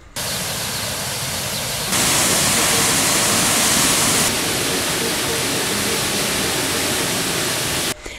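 Ssezibwa Falls on River Ssezibwa in Uganda pours steadily, a dense, loud wash of falling water that stays constant throughout, briefly swelling brighter partway through.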